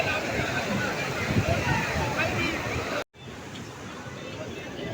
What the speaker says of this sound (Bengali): জলের ঢেউ কিন্তু আস্তে আস্তে বাড়ছে কিন্তু